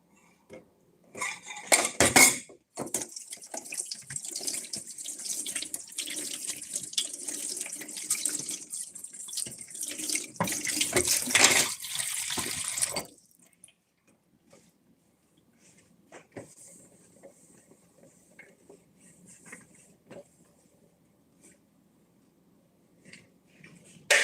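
A cup is washed under a running kitchen tap, with steady splashing water and clinks of dishes for about thirteen seconds, then quieter rustling and faint knocks after the water stops.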